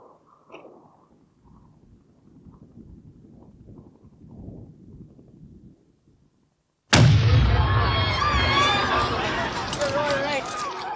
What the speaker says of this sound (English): The explosion had been caused by a hand grenade thrown by a loyalist who'd infiltrated the crowd.